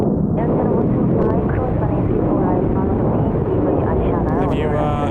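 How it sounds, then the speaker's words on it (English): A Jin Air airliner starts its takeoff roll on runway 34 right at Incheon, a loud continuous engine roar that fills the whole stretch while someone talks over it. "Oh, Jin Air rolling now, 3-4 right."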